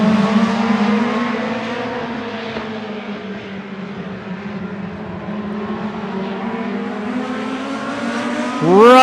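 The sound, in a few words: race cars on a short track accelerating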